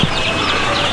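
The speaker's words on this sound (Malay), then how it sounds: "yang ini anak ayam kampung Mardi" Chicks of Malaysian kampung chicken, Mardi breed, in a commercial coop, a dense chorus of high cheeping filling a brief moment, loud and continuous with overlapping calls.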